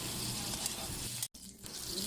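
Tofu frying in a home kitchen pan gives a steady, close sizzle and crackle throughout, broken once by a brief silent dropout before the spatter picks up again.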